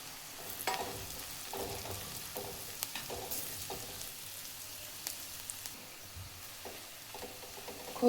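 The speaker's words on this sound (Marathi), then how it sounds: "खोबरे थोडे भाजून घ्यायचे।" Grated coconut roasts in oil in a pan alongside lightly fried onion and garlic, giving a soft, steady sizzle with occasional faint scraping stirs throughout, with no talking.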